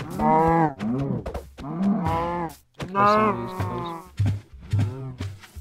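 Several drawn-out, moaning cow moos from a Minecraft video game, loud and close, coming in repeated calls with short gaps between them.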